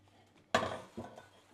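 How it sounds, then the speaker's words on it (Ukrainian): A single sharp clatter of a metal lid set onto a pot of boiling dumplings, followed by a softer second knock, in a quiet kitchen. "І накриваю кришечку, хай закипають."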